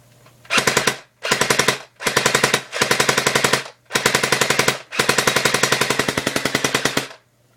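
A Pulse R76 airsoft gun fires fully automatic in five or six loud, close bursts of rapid, evenly spaced shots, each burst lasting about a second, with short pauses between and a longer final burst.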